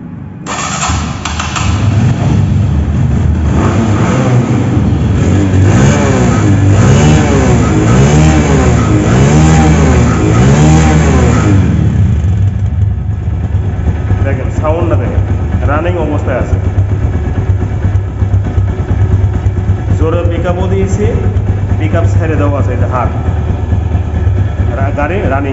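A used 2023 TVS Metro 110 motorcycle in showroom condition starts and idles, with rising and falling revs over a steady engine rumble, while someone talks throughout.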